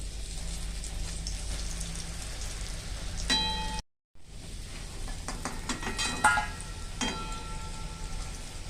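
Lentil cakes (dhoka) shallow-frying on low heat, a steady soft sizzle with scattered pops and crackles plus a few light utensil clinks, with one brief break partway through.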